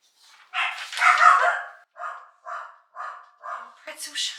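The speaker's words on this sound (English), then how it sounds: "sorry about that dog barking" A dog barks close by in a sequence of five or six sharp barks, loud and alone, with a brief whine near the end.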